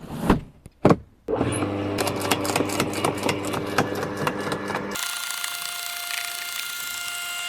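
A GTM DS2800 garden shredder with a milling cutter runs after two short knocks, giving a loud steady motor whine with rhythmic cutting pulses, then settles into a smoother, thinner hum near the end.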